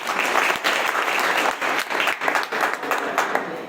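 Audience applause at a business mega-seminar in Amroha, Uttar Pradesh: dense, sustained clapping from a large crowd, steady throughout with slight swells, no talking over it.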